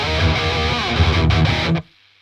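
An electric guitar plays through an Amplex amp simulator set to Hell Boost Max Grind, producing a loud, heavily distorted riff that cuts off abruptly into near silence.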